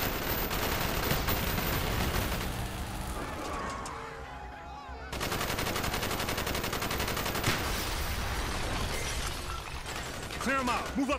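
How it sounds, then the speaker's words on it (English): Heavy gunfire in Call of Duty: Black Ops during a street fight, sustained loud automatic bursts and shots that drop off briefly midway, then resume at full intensity, with shouted game dialogue mixed in. "Bowman, Carlos, lay down covering fire."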